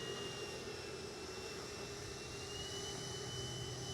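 An FMS Futura v3 80mm RC electric ducted fan jet spools up before takeoff, a steady whining whoosh with a sustained high tone that holds at even loudness throughout.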